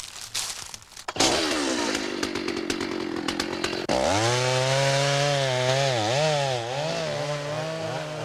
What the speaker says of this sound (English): The chainsaw has replaced the crosscut saw.